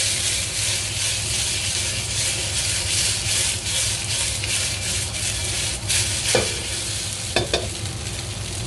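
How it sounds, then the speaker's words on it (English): Meatballs frying in a little oil on a hot pan, a steady broad sizzle with occasional scraping and clicking as they are rolled and turned, continuous and close with no talking. "And just let it grill a little bit and then roll it."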